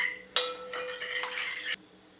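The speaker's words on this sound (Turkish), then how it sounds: "2 yemek kaşığı şeker ekledim. Şöyle güzelce karıştırıyorum." A utensil scrapes and clinks in a bowl, stirring dough right after sugar is added, a brief close burst of about a second and a half of mixing sounds, alone and fairly loud.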